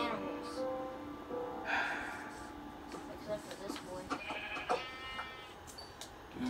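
Sheep bleat in a blocky survival video game, short synthetic bleats rising over a faint background while people talk.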